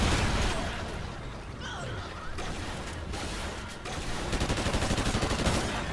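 AK rifle fire in the Call of Duty Ghosts video game: rapid bursts of gunshots with clattering impacts, moderately loud amid busy game noise.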